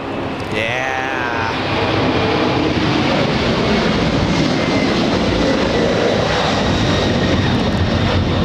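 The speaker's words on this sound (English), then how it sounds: "There goes the 747." A Boeing 747 takes off at Los Angeles International Airport, bound for China, its jet engines a loud, steady roar that fills the whole stretch without a break.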